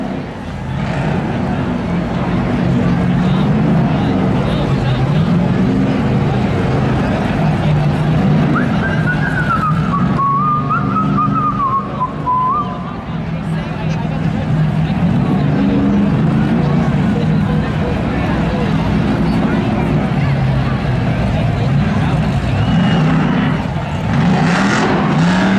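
Drag race cars run at Seekonk Speedway, a steady loud roar of engines accelerating down the strip, heard from the spectator side with a commentator talking throughout.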